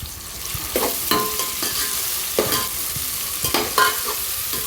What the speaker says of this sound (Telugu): అల్లం వెల్లుల్లి పేస్ట్ ఒక స్పూన్ వేసి అంతా కలిసేలాగా కలుపుకోవాలి.